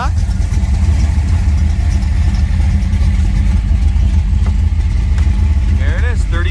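A restored 1979 Chevrolet Corvette idles nearby with a loud, steady, low rumble that never lets up, and faint voices sound over the engine.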